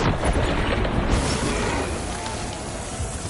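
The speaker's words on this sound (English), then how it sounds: "Actually, I'll just use grenades." Grenade blasts in the Death Stranding video game during a boss fight: a heavy booming burst at the start that decays into a long rumbling, crackling roar filling the rest of the moment.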